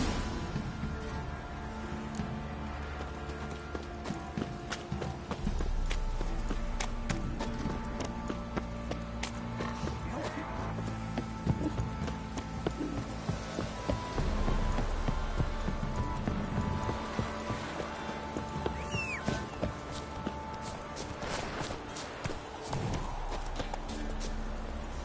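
A horse gallops in a PS4 video game, its hooves beating a quick, steady clip-clop rhythm with music underneath, continuous and fairly close throughout.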